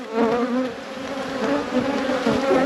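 Honeybees at an apiary hive about to swarm, a dense, loud, continuous buzz of many bees close to the open hive, wavering in pitch throughout.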